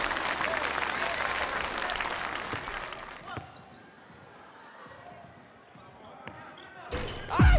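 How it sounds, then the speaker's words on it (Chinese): Crowd applause and cheering fill a basketball game as a player steps to the free-throw line, a loud, dense wash for about three seconds that then fades to quieter arena murmur, with a commentator talking throughout. "掌声鼓励一下康康"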